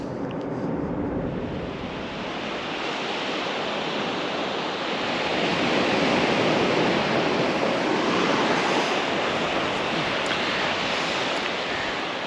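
Ocean waves wash onto a beach on the Cape at sunset, a steady broad roar of surf that swells slightly midway, with some wind rumble against the microphone and no voices.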